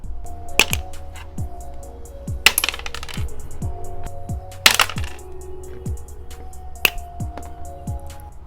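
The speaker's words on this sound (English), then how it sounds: "I take a pair of clippers and I just snip off the ends." Clippers snipping the ends off false thermal nails, giving sharp close clicks and snaps roughly every second with a few louder cracks, against a steady low background hum.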